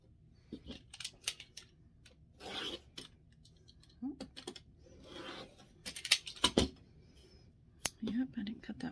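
Scissors cut through bullet fabric to trim its edge, giving soft, scattered snips and rustles at close range while someone talks quietly between the cuts.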